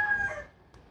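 A parrot at an animal sanctuary gives a loud, harsh call lasting about a third of a second, close by, then fades away with a faint brief sound near the end.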